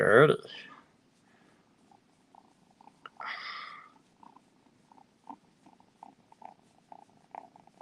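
Soft, low rumbling purr runs steadily in the background, with a brief voice at the start and a few small clicks and murmurs on top.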